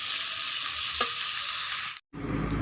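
Curry frying in a pan gives a steady sizzle with one soft clink, then it cuts out briefly and returns with a lower rumble.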